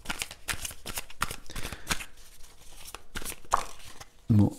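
Tarot cards shuffled by hand in rapid, close riffling bursts, ending in a brief soft thud as a card is drawn, no voices.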